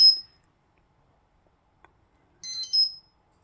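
Alarm bell of a Granit-16/24 security alarm panel giving two short, sharp electronic ringing bursts, the first brief and the second longer, separated by quiet and a faint click.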